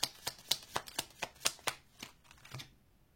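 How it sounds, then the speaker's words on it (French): Tarot cards shuffled by hand in a quick run of about a dozen crisp riffling snaps, close and clear, trailing off into quiet at the end. "Je sais pas si j'ai suffisamment bien mélangé."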